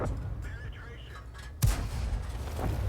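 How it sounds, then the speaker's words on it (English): An M10 Wolverine tank gun in a video game fires a single loud boom at a VK, rising out of steady battlefield rumble, followed by a lingering roar. "He's getting good shots on that VK."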